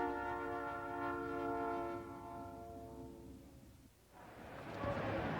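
A Southern Pacific freight train sounds a loud, sustained multi-tone horn for about two seconds, then rolls on with a steady rumble that swells into a broad, near rushing noise as the cars pass.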